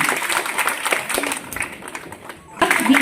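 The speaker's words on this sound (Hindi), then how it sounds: "कृपया इनका तालियों के साथ जोरदार स्वागत किया जाए।" Steady audience applause fills an International Women's Day celebration at a BJP office in Kathua, welcoming a guest with continuous clapping that dips briefly before swelling again.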